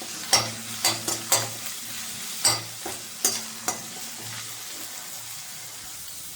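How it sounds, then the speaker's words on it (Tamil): Finely chopped ginger and green chilli sizzle in hot oil while being stirred, with quiet frying under a run of sharp scraping stir strokes, close and alone. "பொடியாக கட் பண்ண இஞ்சி, பொடியாக கட் பண்ண பச்சை மிளகா நல்லா ஃப்ரை பண்ணிக்கோங்க."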